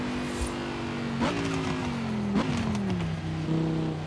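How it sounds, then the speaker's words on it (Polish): An Audi R8 engine in Forza Horizon 4 revs steadily, its tone climbing and dipping through gear changes with sharp bursts near the middle, loud and continuous throughout. "W stosunku do Forza Horizon 3 znacznie poprawili brzmienie tego Audi."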